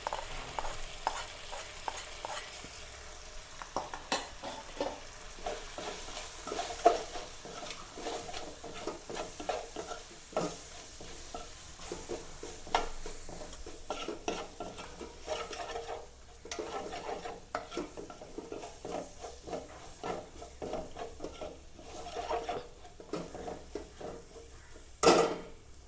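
A spoon scrapes and stirs spice powders in a frying pan with irregular taps against the metal, over a low sizzle of frying, fairly quiet and close.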